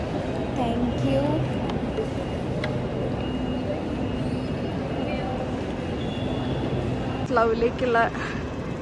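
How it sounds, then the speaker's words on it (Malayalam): A Great Western Railway train at London Paddington station gives a low, steady rumble and station hum under close talk, with a few brief tonal squeals near the end. "GWR ഗ്രേറ്റ് വെസ്റ്റേൺ റെയിൽവേ കയറാൻ പോവാണ്."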